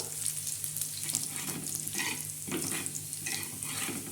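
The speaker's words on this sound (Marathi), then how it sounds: "आता मस्त कांदा आपला भाजत आहे" Onions browning in a pan for a black-masala chicken curry, a continuous sizzle and crackle with occasional scraping stirs and soft watery bursts, close by and without speech.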